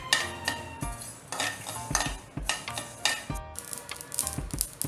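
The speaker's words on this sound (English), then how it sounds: "Now the seeds have started to splutter and it has turned aromatic." Fenugreek seeds splutter in a hot pan while spices are dry-roasted for lemon pickle, giving close, irregular sharp pops and crackles with metallic clinks, and no talking.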